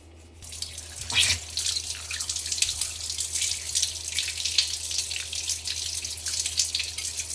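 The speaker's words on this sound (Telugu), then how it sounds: "ఎంత వాష్ అయిపోతున్నాయి చూడు కష్టం లేకుండా రుద్ద పని లేకుండా" Brass puja items being washed under a running tap, with a steady splashing water stream into a sink that starts abruptly and continues loud and close throughout, no talk.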